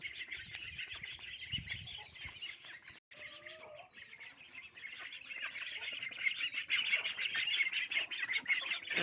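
Domestic ducks at feeding time quack and squawk excitedly in a busy chorus with scattered chirps. The calls are close and grow louder and denser toward the end, and there is no speech.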